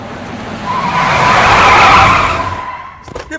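A car brakes hard and its tires skid in a loud, rising screech that swells and then cuts off abruptly, followed by a few brief knocks.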